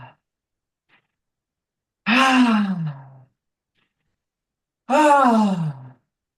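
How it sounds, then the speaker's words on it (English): A person exhaling audibly in long, sighing breaths, two clear exhales about three seconds apart, close and alone with no talk. "I want you to exhale for me 3 times"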